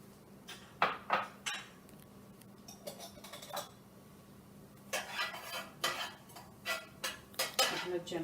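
A spoon stirs cumin seeds in hot oil in a pot while making sambar, giving irregular close metallic scrapes and clinks in clusters with quieter gaps between them.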